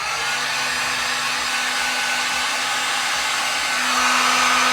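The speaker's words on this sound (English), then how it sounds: "You can take your heat gun, go over it, make your final pass by, and then you can begin trimming." A heat gun blows steadily over vinyl wrap on a car, giving a loud, close, continuous airy roar with a faint motor hum, alone throughout.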